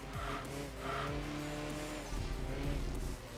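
A Subaru Legacy wagon with level 2 engine upgrades races on a high speed section in Enthusia Professional Racing, its engine droning steadily with rising and falling pitch sweeps and brief tire squeal.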